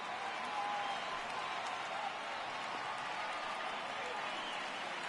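Stadium crowd noise from a baseball game on PS4: a steady, dense roar of cheering fans holds evenly from start to finish, with no distinct claps or individual voices standing out.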